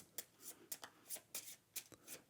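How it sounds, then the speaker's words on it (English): Cards being shuffled for the Aleph Null card game: a quiet series of six or seven crisp riffle bursts in quick, uneven rhythm, close and alone. "Shuffle up."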